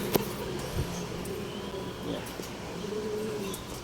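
Racing pigeons coo softly at the loft in the early morning, low murmuring calls mixed with a few faint chirps and light clatter, moderately close with no talking.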